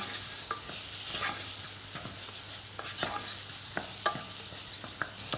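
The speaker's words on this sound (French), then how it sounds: "j'ajoute le riz d'un coup. Je mélange bien." Raw rice stirred into softened onion and fat in a pan, giving a steady low sizzle broken by repeated scraping strokes of the spoon, close and moderately loud, with no voices.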